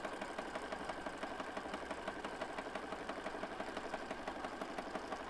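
A sewing machine stitches through a thick handmade junk journal in a steady, fast mechanical chatter, quiet and continuous throughout with no talk.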